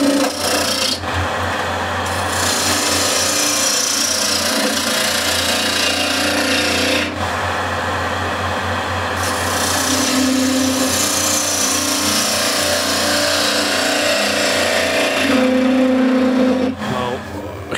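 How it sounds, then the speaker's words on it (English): Spindle gouge cutting Osage orange wood spinning on a lathe, a steady loud scraping rasp that runs nearly unbroken with slight shifts in tone as the tool moves along the top. "Now I want to start shaping the top here, and I'll do that with a spindle gouge."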